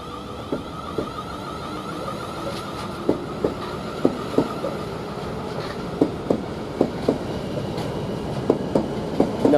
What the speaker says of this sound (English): Now this train ready to depart, going to London Waterloo at the 12:35